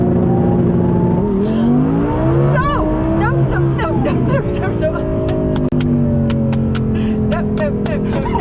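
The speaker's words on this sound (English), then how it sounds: "I hold it down, I floor the throttle, you'll hear the turbo spool up, and when I let go of this, the car takes off." A Heffner twin turbo Audi R8 tuned to about 1400 hp holds a loud, steady engine drone with rising whine as the turbos spool, then sharp rapid anti-lag pops and crackles on launch, with a voice faintly underneath.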